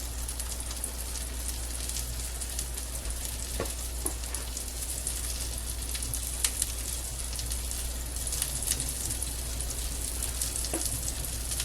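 Honey lemon shrimp frying in a pan, a constant dense sizzle with scattered sharp pops and crackles, close and steady with no talking.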